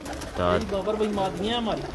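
Pigeons on a rooftop in Hafizabad coo with steady, droning calls that rise and fall for a couple of seconds, close and moderately loud, with a faint hum of voices behind.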